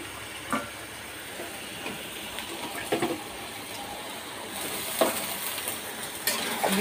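Tomatoes and green chilies fry in a pan with a low, steady sizzle. Occasional soft clicks of stirring come through, and no one speaks.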